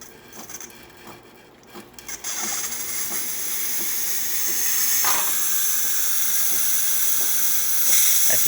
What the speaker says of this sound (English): And now for the steam.